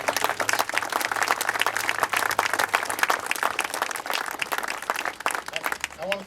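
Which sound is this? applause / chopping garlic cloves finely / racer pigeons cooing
applause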